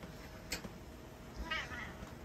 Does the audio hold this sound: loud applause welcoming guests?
no